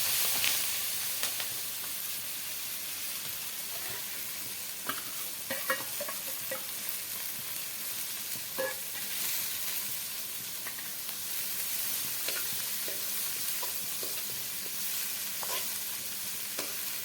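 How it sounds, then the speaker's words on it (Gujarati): Chopped green onion sautéing slowly over low heat in a pan with turmeric, asafoetida and whole cumin-coriander, giving a soft continuous sizzle with occasional light crackles and stirring scrapes, fairly quiet and close. "આવી રીતે ધીરે તાપે સોડવાનું ધીરે ધીરે"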